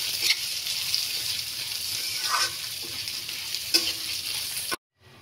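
Moong dal dry-roasting in a pan for Bengali bhuna khichuri, a soft continuous sizzle with occasional scrapes of a spoon stirring the lentils, before the sound cuts off abruptly near the end.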